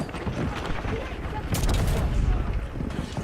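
Gunfire in the battle royale shooter Warzone, dense bursts of rapid shots and booms that stay loud and close, under people talking.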